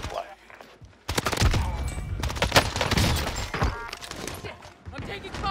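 Rapid bursts of automatic gunfire ring out in the Warzone video game, loud and dense, mixed with crashing impacts and overlapping voices.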